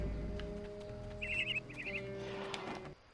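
A bird in the video game Psychonauts 2 gives two quick bursts of bright chirping twitters over a steady low game ambience and music, fairly faint in the mix.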